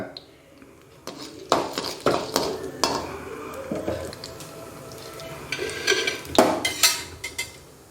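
Urad dal fries in hot oil in a pan for a chutney, with a soft sizzle beneath repeated loud clanks and scrapes of a utensil against the pan, close by and irregular.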